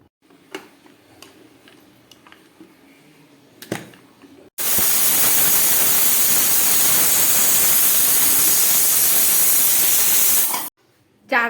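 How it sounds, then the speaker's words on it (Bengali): A pressure cooker cooking mutton with papaya and potato lets out a loud, steady hissing whistle lasting about six seconds, cutting off abruptly, after quieter ticking kitchen sounds. "চলুন এবার প্রেসারটাকে ঢাকনা বন্ধ করে 3টে মতো সিটি দিয়ে নিই।"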